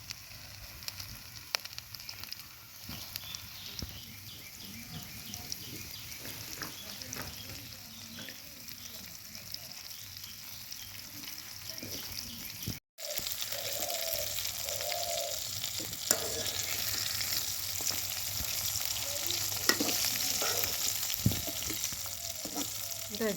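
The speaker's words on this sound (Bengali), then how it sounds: "এখন এটাকে আমি তেলের মধ্যে ভাজে নিব" Coated bone-in chicken deep frying in hot oil: a steady bubbling crackle that jumps louder after a brief cut partway through, with occasional scrapes and pops; no one speaks.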